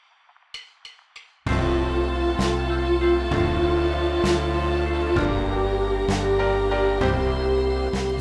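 A 1970s soul-style sample built from stock Logic instruments and heard dry, before any vintage EQ saturation: a few soft plucked or keyed notes lead into a full, steady loop with drums, bass and keys repeating on a regular beat, loud and close.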